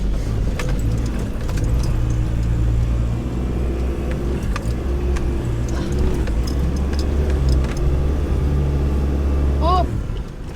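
A car stuck driving on sand, its engine droning steadily and loud through the whole stretch with a constant low rumble, and a brief squeal near the end.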